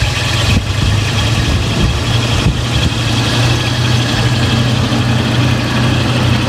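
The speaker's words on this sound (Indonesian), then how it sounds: "posisi mesin sudah dinyalakan," A 2000 Toyota Kijang LGX engine idles steadily and smoothly, giving a constant low, even hum with no revving for the whole stretch.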